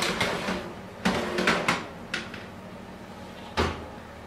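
Baking trays of simit and poğaça slide into a preheated 180-degree oven: a few scattered metallic clanks and a door thud in a kitchen, with no talk.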